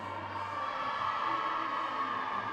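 A crowd cheers at a women's university volleyball match at Roses 2024, a brief burst of distant, roomy shouting and whooping that carries steadily through the hall.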